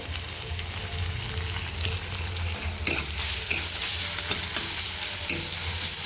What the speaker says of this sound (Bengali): পেঁয়াজটা ভালো করে লাল করে ভাজা হয়ে গেছে।